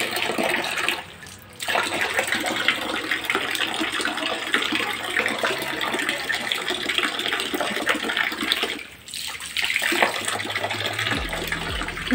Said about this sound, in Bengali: চলো এবার মুখ ধোবে দেখা যাক।